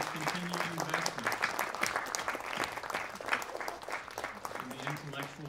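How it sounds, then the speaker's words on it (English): A lecture audience applauds in a steady wash of many clapping hands, moderately loud and sustained, with a voice talking over the clapping at points. "please join me in a round of applause as a token of appreciation for their family's continued investment"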